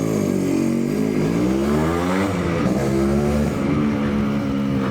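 A 1988 Yamaha RX100 two-stroke motorcycle revs loud and close, its engine note climbing and falling in continuous throttle sweeps with no talking over it.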